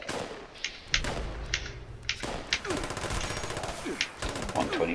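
Explosive railway rifle firing in Fallout 76, a series of sharp, punchy shots with thudding impacts and short bursts of rapid fire, mixed with game effects and occasional speech.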